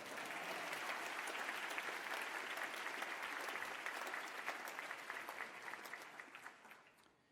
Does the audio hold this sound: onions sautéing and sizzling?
no